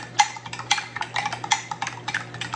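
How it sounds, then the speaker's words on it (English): Buttermilk waffle batter being stirred in a bowl, a steady rhythm of scraping, clinking strokes against the sides, close and fairly loud over a low constant hum. "now we're gonna mix that up"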